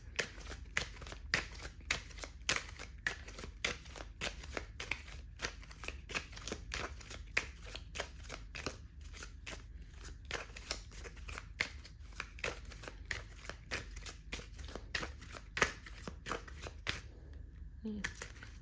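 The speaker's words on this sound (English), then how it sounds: "Quite a long shuffle." A deck of tarot cards is shuffled at length, with rapid, steady riffling and soft snaps close by, then a brief pause near the end.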